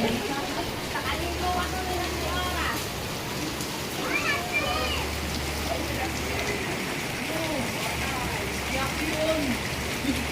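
Steady rain falling outside a second-floor window, a soft continuous patter and hiss of drops, while children play in the rain and people talk faintly in the distance.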